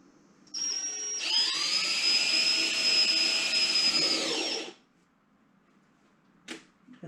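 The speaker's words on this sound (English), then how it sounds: "So I'm going to make all 4 of my pilot holes" A power drill whines steadily for about four seconds while boring a pilot hole during construction of an acrylic pouring box, close and fairly loud, then stops with a short knock afterward.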